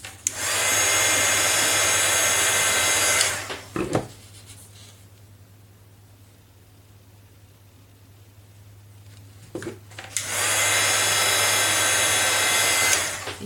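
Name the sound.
heat gun drying ink on photo paper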